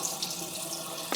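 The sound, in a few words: water being emptied from a sprouting jar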